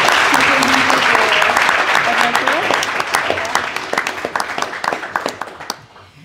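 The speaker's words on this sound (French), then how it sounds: "je propose qu'on applaudisse chaleureusement Monsieur le Ministre." An audience in Lyon applauds the minister warmly, a dense, loud wave of clapping that carries on steadily before thinning into scattered claps and fading out.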